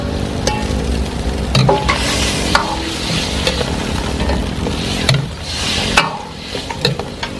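Cornstarch being stirred into sizzling chicken stock in a wok with crab, ginger and scallion: a continuous loud sizzle runs throughout, broken by repeated clanks and scrapes of the stirring utensil.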